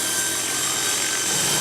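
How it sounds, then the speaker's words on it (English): Remote-controlled camera helicopter rig, nicknamed a flying chainsaw, flying to follow an RC drift car; a steady, buzzy high-pitched rotor and motor whine, constant and moderately loud, with no talking. "We're gonna follow the RC car with this remote-controlled helicopter rig, which is also nicknamed a flying chainsaw."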